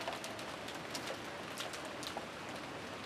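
Rain pours down steadily in the video game Umineko, a dense, continuous patter with faint scattered drip accents and no talking.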